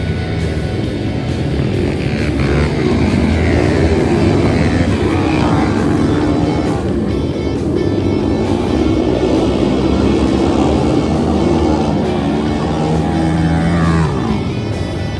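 Flat track motorcycles racing in a Super Hooligan pro event, a loud continuous engine roar that rises and falls as bikes pass near, with no talking.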